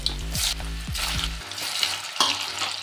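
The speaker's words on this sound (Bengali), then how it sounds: "এই সেদ্ধ আলুগুলোও একটু ভেজে নেব" Boiled potatoes frying in oil in a pan, a continuous close sizzle with a low humming tone in the first half that drops away, the frying carrying on alone.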